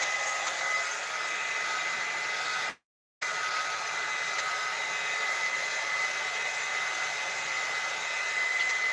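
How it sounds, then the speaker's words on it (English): A heat gun blows on a stamped craft project with a steady, loud whooshing hum, broken by one short silent gap before it resumes. "Drying it with your heat gun does else."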